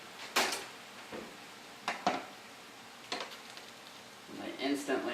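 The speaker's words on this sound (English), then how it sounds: "we're going to go ahead and drop our noodles" Rice noodles dropped into a hot pan for a shrimp and vegetable stir fry, with faint sizzling under sharp clatters of utensils against the pan and a few soft knocks, a louder hiss building near the end.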